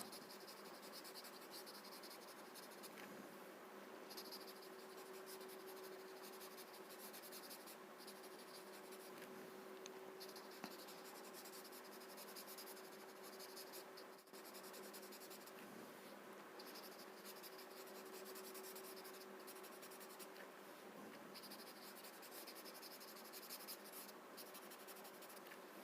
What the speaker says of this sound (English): Slowly blur the graphite.